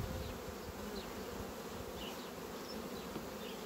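A honeybee colony hums steadily while being fed, a dense, continuous buzz close by with faint individual bees flitting past, no voices.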